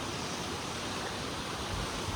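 A fast-flowing river rushes in a soft, even hiss of moving water, steady and moderately distant with no other sounds standing out.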